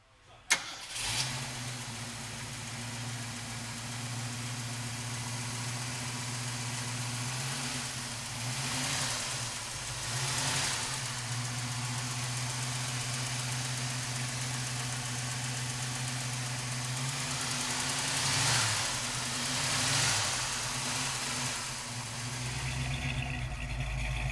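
A 1969 Ford Mustang with a 390 V8 cranks and catches with a sharp start. It then settles into a steady, loud, rumbling idle for over twenty seconds, with a couple of brief revs partway through.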